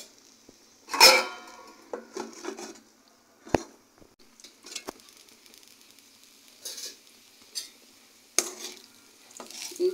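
Drumstick leaf fry is stirred in a pan, a soft low sizzle under irregular scrapes and metallic clinks of a spoon, with several sharp knocks against the pan spaced through the stretch.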